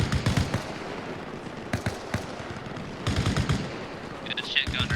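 Video game gunfire from a vehicle gunner, rapid bursts of automatic fire in several salvos with pauses between them, loud and close.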